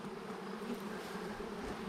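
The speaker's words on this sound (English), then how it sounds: "Are you playing with the bees, Laura?" A dense, steady drone of many honeybees buzzing close by at a hive, a continuous low hum with no voices.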